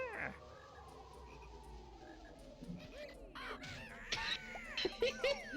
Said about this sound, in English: Kazooie attacking another bird.